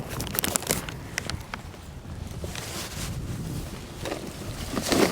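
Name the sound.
wind blowing outdoors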